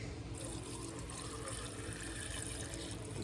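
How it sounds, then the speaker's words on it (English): Distilled water pours steadily over a batch of gold-plated electronic fingers in a container being readied for refining, a close, continuous liquid rush with no speech. "Got a bit of distilled water here. Like I said, I'm going to fill them up so they're covered"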